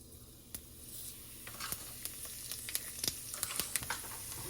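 Cumin seeds hit hot mustard oil in a kadhai and crackle into a bright sizzle, with sharp scattered pops that grow busier over a few seconds, close by and with no voices.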